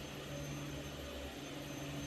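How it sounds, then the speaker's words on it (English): A vacuum cleaner hoovers nearby indoors, a steady, even drone holding at moderate level throughout with no voices. "Someone decides to hoover, how lovely."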